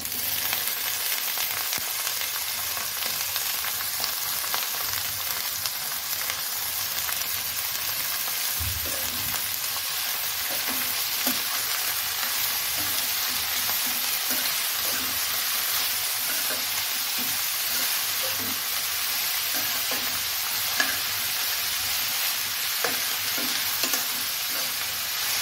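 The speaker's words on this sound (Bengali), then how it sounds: "এখন আমি ধুয়ে রাখা খাসিয়া বেগুনটা দিয়ে দিব।" Khasi eggplant sizzles steadily in a pan with browned onions, a continuous bright frying hiss with occasional scraping stirs, close and fairly loud, no talking.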